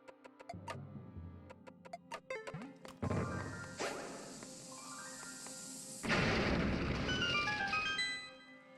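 Bomb blasts in Zelda: A Link Between Worlds, set in the House of Gales dungeon: ticking and small taps lead into two loud bursts, each a sudden crash with a bright, lingering tail over quiet dungeon music.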